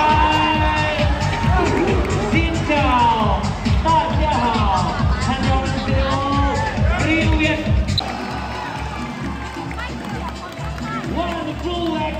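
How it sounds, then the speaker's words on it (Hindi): A dense crowd mills around at an elephant show in Thailand, a loud wash of chatter, shouts and footsteps, with voices of people nearby talking over it. "भीड़ देखो पीछे कितनी तगड़ी भीड़ है"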